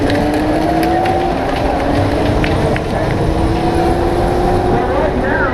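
Power racing car circling a track at a PPPRS event in New York, a steady whining motor drone passing close amid loud crowd and track-side ambience.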